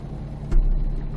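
A heavy truck hauling a humongous log stack in American Truck Simulator, its engine giving a steady low rumble with one brief surge of a thump partway through, close and fairly loud with no talking.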